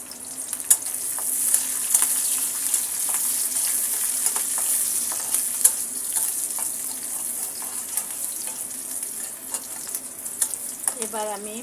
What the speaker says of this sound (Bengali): দিয়ে দিচ্ছি চুলায় তেল, দিয়ে দেব পেঁয়াজ কুচি